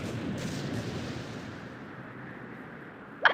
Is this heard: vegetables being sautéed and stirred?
no